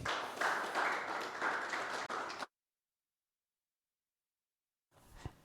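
Audience applauds a speaker at a talk on investigative reporting, a dense burst of clapping for about two and a half seconds that cuts off into silence, followed by a brief faint sound near the end.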